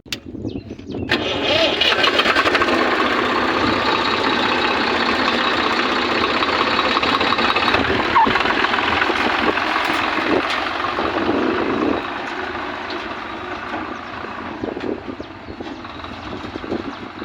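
A tractor engine runs steadily and loudly nearby for the whole stretch, easing slightly toward the end.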